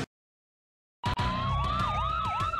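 After a second of silence, an ambulance siren in a video game starts loud and close, wailing and rising and falling rapidly over engine rumble.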